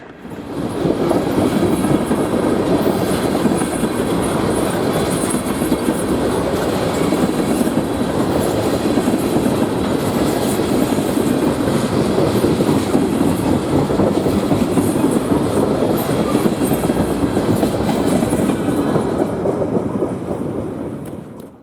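An Ohio Central freight train led by four maroon-and-yellow EMD locomotives rolls past, a long, loud, steady rumble of wagons with rhythmic clickety-clack and occasional wheel squeal, fading slightly at the very end.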